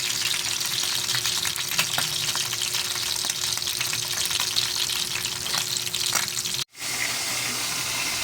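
Steady, dense sizzling of vegetables frying in a pan, continuous and close, with a brief dropout near the end.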